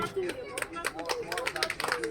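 Children and guests clap at a birthday party where a giant costumed bunny entertains, quick uneven hand claps close by with shouting voices and chatter mixed in.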